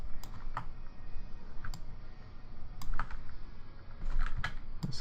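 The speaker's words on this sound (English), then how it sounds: "Double click on the edge." Quick, light mouse clicks at a computer during 3D modeling work, several soft ticks in small clusters scattered over a few seconds against a faint, steady room hum.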